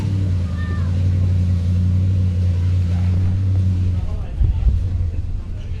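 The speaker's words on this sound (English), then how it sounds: "Some of the cars are moving in and out." Race cars at an enduro scrutiny idle and rev with a steady low engine drone, with rougher revving bursts near the end, while a person talks over the noise.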